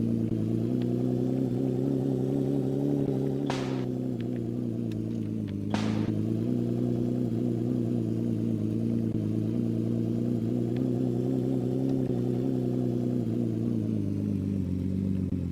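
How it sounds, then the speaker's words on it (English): A car engine in a self-made rally video game, a steady droning hum with a constant pitch that holds throughout, broken by two brief sharp bursts of clatter. "The engine shouldn't slow down there"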